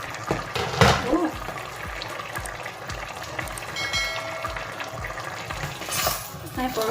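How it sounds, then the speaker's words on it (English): Jollof rice is stirred in a cooking pot, giving repeated scraping and rustling strokes with a low steady background rumble throughout. "Time for us to stir it."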